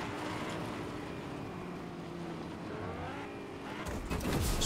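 A truck chase in the Fortnite video game brings steady engine drone with shifting pitch as a vehicle drives, then a louder rush and a sharp sweep near the end.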